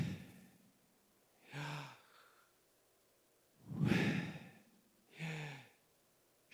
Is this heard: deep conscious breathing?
yes